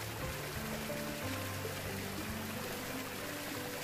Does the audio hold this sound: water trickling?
yes